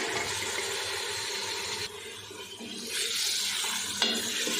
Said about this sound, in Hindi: प्याज को खड़े मसाले के साथ फ्राई कर लेते हैं और साथ ही इसमें मटन भी ऐड कर देते हैं।